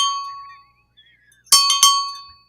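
A small bell is struck twice in quick succession, giving two bright, close ringing strikes that decay after a quiet, faintly tonal lead-in.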